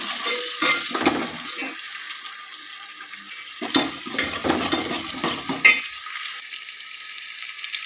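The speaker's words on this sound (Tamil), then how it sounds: "உள்ள போட்டு நல்லா ஒரு கலை கலந்து விட்டுலாம்" Ingredients for a Tamil mutton curry stirred and frying in hot oil, bursts of sizzle and scraping spoon strokes coming and going, with a sharp utensil clink near the end, close and without talk.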